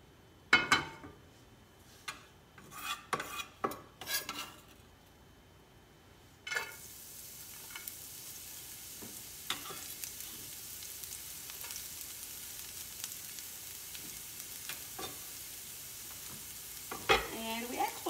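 Shallot sautéing in melted fat in a pan for cauliflower risotto, starting with a few stirring scrapes and clinks, then a steady soft sizzle that carries on quietly with occasional light utensil taps.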